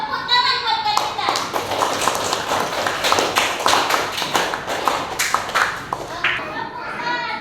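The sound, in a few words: audience clapping hands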